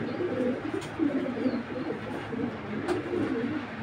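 A big-size grizzle pigeon pair coos in soft, low, repeated rolling calls close by, over a steady background hum and a few faint clicks.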